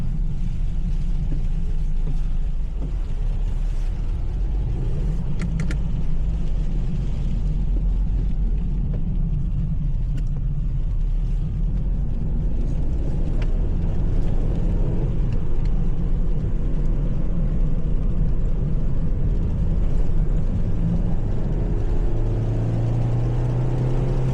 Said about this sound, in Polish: Na nagraniu może być troszeczkę głośniej, ponieważ aktualnie są założone opony zimowe